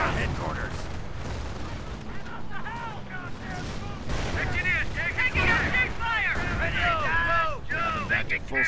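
Battle gunfire and explosions in Company of Heroes during a co-op Operation Stonewall match, with bursts and booms mixed among whistling, sweeping effects and voice-like callouts throughout.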